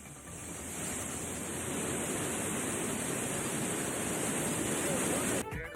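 Floodwater pours over Kumbakkarai waterfall in a steady, loud rushing roar that stays constant and drops off abruptly just before the end.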